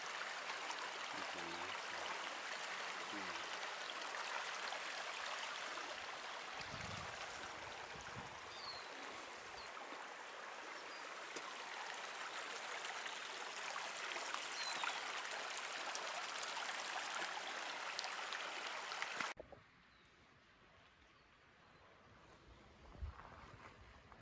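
Stream water rushes through Palm Canyon in Anza Borrego State Park, a close, bright continuous rush with some wind buffeting the microphone, cutting out abruptly near the end to a quieter background.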